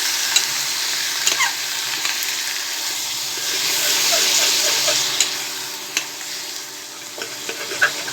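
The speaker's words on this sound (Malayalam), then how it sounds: "നല്ല ചെറുതാക്കി ഇട്ടതിൻ്റെ ശേഷം ഒന്ന് ഇളക്കി കൊടുക്കാം." Small chicken pieces fry in a pan with a steady bright hiss. Occasional clicks and scrapes of a stirring spoon come through close by, and there is no talking.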